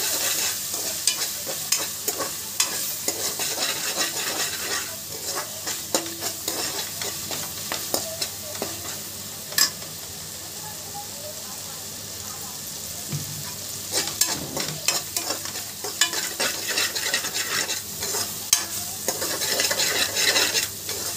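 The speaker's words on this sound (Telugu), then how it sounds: "అల్లం వెల్లుల్లి పేస్ట్ పచ్చివాసన అనేది పోవాలి మనకి. బాగా కలపండి." Ginger-garlic paste and mutton frying in a pan, a steady close sizzle under frequent scraping stirs of a spoon against the metal, continuing throughout with no one talking.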